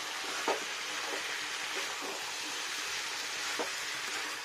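Chicken frying in a pan, giving a steady dense sizzle that holds evenly throughout, with a few faint soft clicks of movement underneath, close and moderately quiet.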